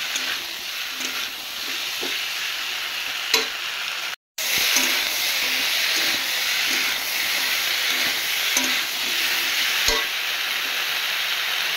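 Water goes into a pan of cooking potatoes and vegetable stems, giving a loud continuous sizzle and steamy hiss with a brief break partway through and light stirring knocks.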